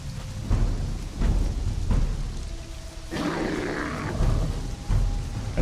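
Rain and rolling thunder in the Conan Exiles video game at night, a steady downpour with low rumbling swells throughout, heard alone without voices.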